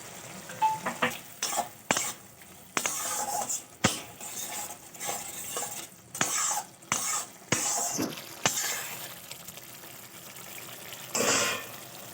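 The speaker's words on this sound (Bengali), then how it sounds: "দেখুন, আমার ঝোল ফুটে গেছে। এবার মশলাগুলো দিয়ে দেবো।" Village-style baan fish (eel) broth boils in a pot while spices go in, giving uneven bursts of bubbling, sizzling and stirring with short pauses between. No voices are heard.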